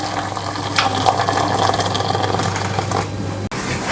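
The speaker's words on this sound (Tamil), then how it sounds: "இப்போ இதில் இந்த தண்ணி ஊற்றினா போதும், ரசம் ரெடி ஆயிருச்சு பாருங்கள்" Hot water pours steadily into instant rasam premix powder in a vessel, a close, continuous splashing fill that ends with a sharp knock.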